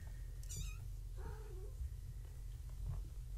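Kitten waking up, with a soft low continuous purr running underneath along with a couple of brief higher meow-like chirps, close and quiet.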